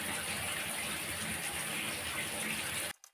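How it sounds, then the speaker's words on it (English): Running water gushes steadily over a Hallicrafters Sky Rider Jr. S-41G radio case from 1945-1946, rinsing residue off the cabinet, loud and continuous, then cutting off abruptly near the end. "the case is washed with water from all residues"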